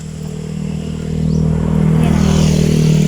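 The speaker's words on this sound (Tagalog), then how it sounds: "Ayan, may motor na naman." A motorcycle on a muddy roadside in rural Leyte approaches and grows louder, its engine rising to a steady close roar by the end.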